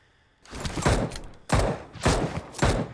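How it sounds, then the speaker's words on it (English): Gunfire in an online battle royale video game, several heavy booming shots in quick succession, loud and close, with no talk over them. "Oh no, someone's shooting me."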